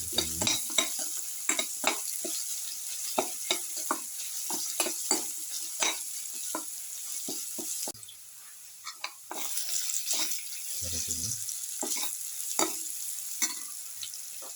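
Winter melon mixture with salt sizzles and fries in a pan, with frequent stirring scrapes and clinks popping out over a steady hiss, fairly close and alone.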